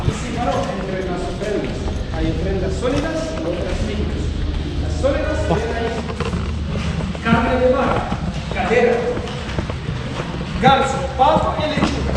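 Horse hooves clip-clop steadily and close while pulling a carriage near the Karnak and Luxor temples in Egypt, with people talking over the rhythmic hoofbeats throughout.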